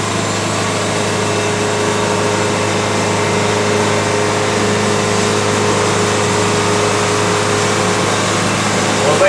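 A Wood-Mizer LT70 sawmill's engine runs steadily while cutting cedar, a loud constant drone with a broad noisy hiss and no breaks in level across the whole stretch.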